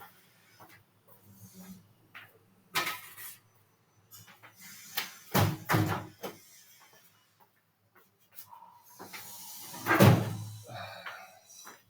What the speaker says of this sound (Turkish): Bir dakika şu kapıyı kapatayım ya yan tarafta inşallah.